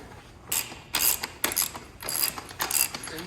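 A ratchet wrench loosening the 28 mm rear axle nut on a dirt bike, with several close, bursts of clicking separated by short pauses as the handle is swung back and forth.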